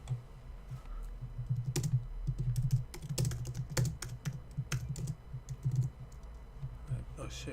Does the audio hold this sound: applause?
no